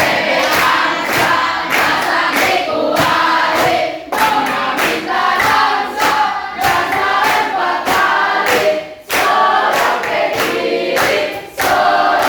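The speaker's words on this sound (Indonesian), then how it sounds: "Sambil tepuk tangan." A group of people clapping in a rhythmic, regular beat during a school coaching session, loud and close, in repeated bursts with short pauses between phrases.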